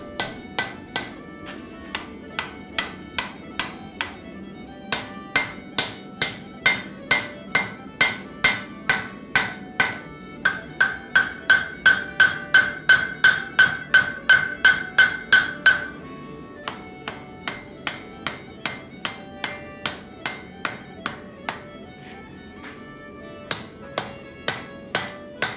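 A smith hammers hot steel to shape a folded forged axe, with a long run of sharp, ringing metallic strikes in a steady rhythm. A fast ringing burst comes midway, then slower, evenly spaced blows, loud and close.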